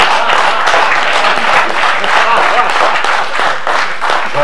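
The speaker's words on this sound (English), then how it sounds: "For those of you not clapping, it's okay." Audience applause fills a convention Q&A hall with an actor on stage, a dense, steady burst of clapping from a large crowd lasting several seconds with voices mixed in.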